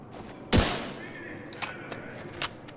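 Sniper rifle fire in the shooter game The Division 2: one loud, sharp report followed by a few quieter, spaced shots over a low background hum.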